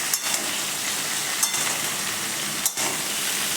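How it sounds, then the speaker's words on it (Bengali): Diced pointed gourd, long beans, potato, eggplant and ridge gourd being stirred in a frying pan, a steady sizzle with three distinct scrapes or clinks of the utensil at regular intervals. "ভালো করে নেড়ে নেব"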